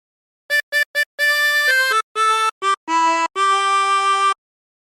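A harmonica plays a short melodic phrase from a song, a few quick separated notes followed by longer held ones, clear and close with no talking.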